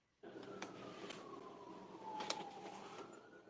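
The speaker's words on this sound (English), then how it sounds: "I hear sirens." A siren wails in the distance, its pitch slowly falling, with faint background noise around it.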